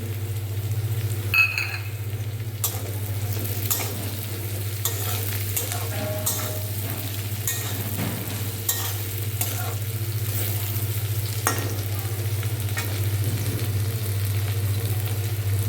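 Bitter gourd (karela) stir-fried in a pan, a steady sizzle with repeated scraping strokes of a spatula at an uneven rhythm, continuous and close, over a low hum.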